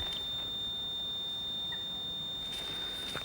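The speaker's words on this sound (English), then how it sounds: "My buzzer's off." An electronic bite alarm buzzer on a pike-fishing rod sounds a thin, steady high-pitched tone held throughout, fairly quiet against faint outdoor background noise.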